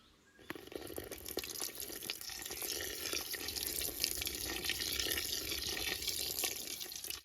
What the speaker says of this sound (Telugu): మా ప్రవీణ్ ఇచ్చిన బర్రె పాలు తీసుకొని ఇలా పోసుకుందాం